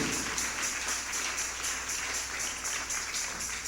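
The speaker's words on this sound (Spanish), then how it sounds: "Dele un aplauso al Señor." Applause from a church congregation during a service, a steady wash of many hands clapping at moderate volume throughout, heard at some distance without talk.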